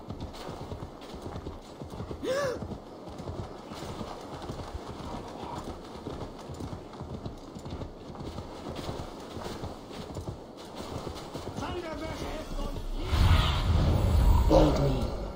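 Horse hooves clip-clopping steadily in Assassin's Creed Valhalla, close and continuous, with a brief neigh partway through and a louder burst of game noise near the end.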